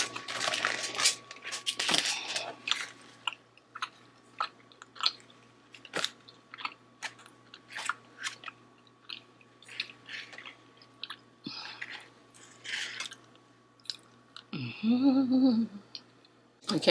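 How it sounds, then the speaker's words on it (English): Someone eats a cinnamon roll up close, with repeated soft chewing and biting sounds and small squishy mouth noises scattered through the stretch, then a brief vocal murmur near the end. "Let me just bust down this cinnamon roll real quick."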